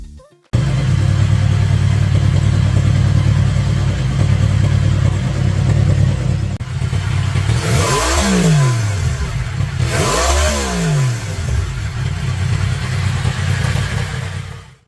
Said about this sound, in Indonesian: Knalpot ini telah dirancang untuk mengeluarkan suara yang dalam alias ngebass dan khas yang menekankan urutan pengapian mesin crossplane